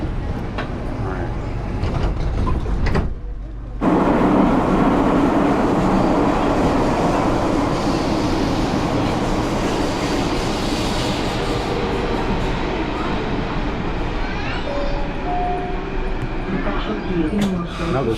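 Train at a station on the Athens to Paleofarsalos line, a loud steady rumble and hum of the railway with a brief drop near the start, while people talk over it.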